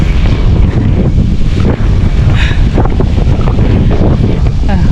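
Strong wind buffets the microphone in loud, continuous gusts on a runabout boat, with faint water and boat sounds underneath.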